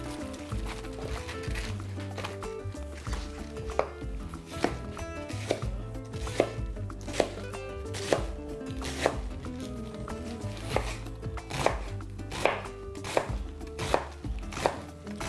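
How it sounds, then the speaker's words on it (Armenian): A knife chops leafy greens into ribbons on a board in quick, even, close strokes over steady background music. "Կտրատում ենք ժապավենների։"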